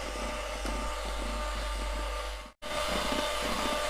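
Electric hand beater running at fourth speed while whipping cream, a steady loud motor whir that holds throughout apart from one brief cut-out near the end.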